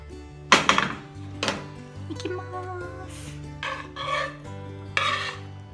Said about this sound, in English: I don't have potato masher, so I'm using the fork.